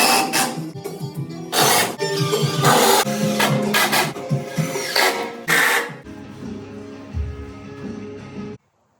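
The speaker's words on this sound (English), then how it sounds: "I'm going to be taking 2x6s and then screwing them into the wall" Power driver sinks screws through 2x6 boards into a silo wall in several bursts of loud whirring, with clunks and handling noise between the runs before everything cuts off.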